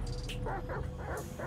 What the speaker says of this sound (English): Oh, shoot, they got mad dogs, yo.